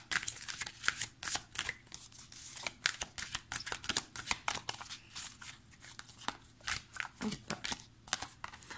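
Close, quiet shuffling of a deck of oracle cards in quick, repeated bursts of papery rustling, with faint voice underneath.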